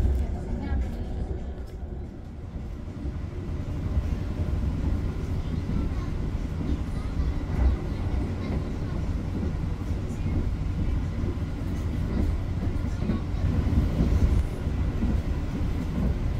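Onboard rumble of the KA Jayabaya Stainless New Generation train, built by PT Inka, accelerating to around 100 km/h: a steady low roar with rhythmic rail clatter running throughout.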